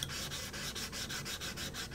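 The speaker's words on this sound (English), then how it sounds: "finish that off with a bit of horsetail, which is the natural plant abrasive" A violin body is rubbed with horsetail, a natural plant abrasive, during finishing. Rhythmic scratchy back-and-forth strokes, about four per second, run close and steady with no talk.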